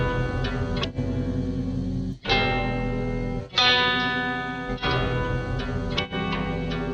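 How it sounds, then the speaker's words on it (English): A slow, drawn-out synth melody sample, slowed from 135 to 93 BPM, plays with heavy echo and distortion, notes sustaining and separated by brief pauses, with no voices. "I put down the melody at a lot slower BPM"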